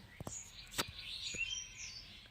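Myna birds chirp outdoors at daybreak in a quiet yard, a few short sharp calls and a faint, wavering high twitter, all soft and somewhat distant with no talk.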